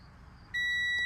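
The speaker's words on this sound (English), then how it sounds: "So starting off, you should get a beeping noise" A multimeter's continuity-test beep starts abruptly halfway through and holds as a steady high tone until the end, over faint background hiss, during coolant fan repair on a 1994 Chevy Camaro Z28.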